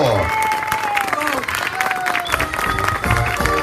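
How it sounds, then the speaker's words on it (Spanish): Audience applause at an outdoor neighborhood dance competition final in a public plaza, steady crowd clapping under a loud announcer's voice and background music. "¡Fuerte el aplauso!"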